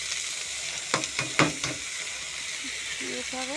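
Chopped taro greens and eggplant frying in oil in a pan, a soft, continuous sizzle with a few quick stirring clatters, while someone talks briefly near the end.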